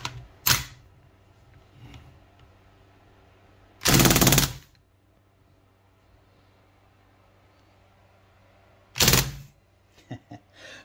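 A Crosman DPMS R1 air rifle fitted with a 20-inch barrel fires in full auto, three short loud bursts of rapid shots separated by quiet gaps, the last burst followed by a few lighter clicks.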